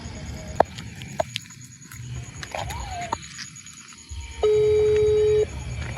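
A telephone being dialed gives a few faint button clicks, then one clear steady tone lasting about a second, over quiet room noise.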